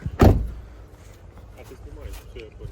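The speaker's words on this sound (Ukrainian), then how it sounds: "Чотири склопідіймачі в нього." A car's power window motor whirs in a short, loud burst near the start, followed by quieter cabin noise and faint background talk.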